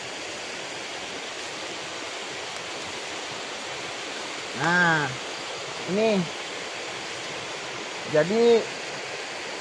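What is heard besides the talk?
flowing river water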